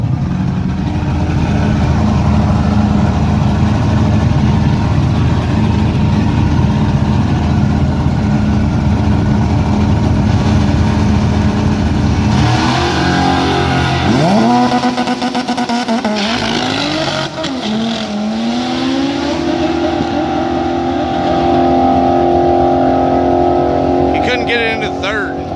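A 650hp Honda Integra race car engine revs hard down a drag strip, a loud continuous roar that climbs in pitch through the gears, close by and dominating throughout.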